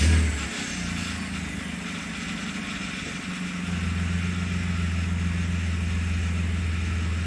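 A 2007 Kia Sorento with a 3.8 engine and automatic transmission idles nearby with a steady low hum, a faint chatter in the engine, and a slight rise in pitch partway through.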